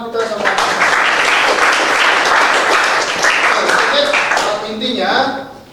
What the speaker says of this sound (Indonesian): Beri tepuk tangan Novita sama.